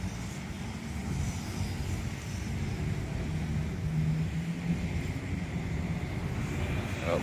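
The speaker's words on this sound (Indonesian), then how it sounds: "motor lewat, mobil lewat" A motorcycle and a car pass along a street, making a continuous broad rumble of engine and road noise that swells slightly and holds at moderate distance.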